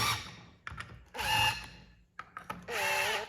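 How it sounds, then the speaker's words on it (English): A power tool drives a part on a turbocharged snowmobile, Nytro clutch work, in two loud, close whirring bursts with rising and falling pitch, separated by short clicks and pauses. "if you're careful, you can do it with your power tool"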